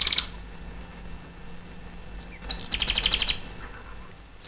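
A canary chirps briefly, then gives a quick rapid trill, fairly faint over a soft background hiss.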